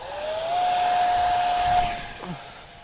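A small RC T-33 model jet is hand-launched at full throttle, its thin, high electric whine rising sharply, holding steady and then trailing off as it moves away. No voices.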